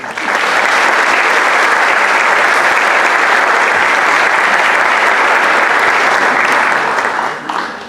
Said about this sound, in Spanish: Un abrazo y un aplauso para todos ustedes.